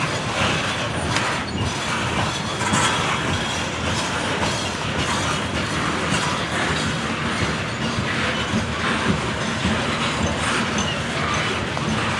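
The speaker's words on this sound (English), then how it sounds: "After the Pennsy coal train got by," A Norfolk Southern coal train in Pennsylvania Railroad heritage paint rolls past close by on the Columbus District, a steady loud rumble with continuous wheel clatter and faint squeals throughout.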